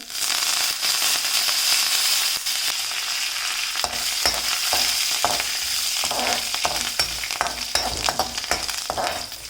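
Curry leaves sautéing in hot oil in a pan for taro stem thoran, a loud continuous sizzle with sharp crackles and spitting pops growing denser partway through, close up with no voices.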